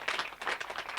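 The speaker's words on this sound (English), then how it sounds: "Madame Jane Vangamba, you deserve a very big hand clap." An audience claps for a speaker introduced at a university public lecture, with dense, faint applause sounding steady and distant.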